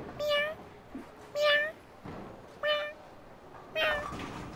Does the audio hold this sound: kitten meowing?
yes